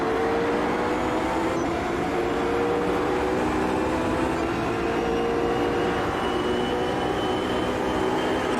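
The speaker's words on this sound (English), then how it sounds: "now we get to hear the beautiful sounds of the 911" Porsche 911 engine in the racing game Automobilista 2 at Silverstone, a continuous loud drone at sustained revs that holds steady throughout without breaks, with no talking.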